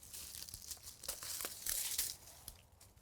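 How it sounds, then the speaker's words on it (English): Long-handled loppers cut small sucker stems out of a shrub during pruning, giving close, crisp crunchy snips and rustling of twigs and leaves that come in irregular bursts, with no talking. "your loppers are good, because you can get in there with your long handles and they're pretty easy to cut"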